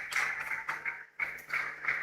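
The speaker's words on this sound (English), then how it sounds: "You deserve a round of applause." A crowd applauds at a university graduation ceremony for the graduating batch in Accra. The clapping is a steady, dense wash that dips briefly halfway through and then resumes at the same moderate level.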